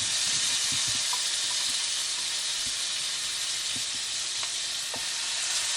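Marinated lamb chops sizzle steadily in a hot skillet, a dense broadband frying hiss holding at even loudness throughout with a few faint pops and clicks scattered through it, and no voices.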